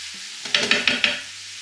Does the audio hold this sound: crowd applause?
no